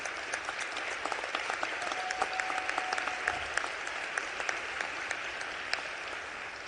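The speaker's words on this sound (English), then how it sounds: "Let's give them a round of applause." An audience in the Illinois House chamber applauds at a swearing-in ceremony for a new Speaker, producing steady, dense clapping from many hands at moderate distance, with sharper individual claps popping out of the wash.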